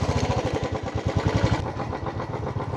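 A motorcycle engine runs with a steady, pulsing mid-pitched throb while the bike rides downhill toward parking near Kasauli, close and continuous with no talk.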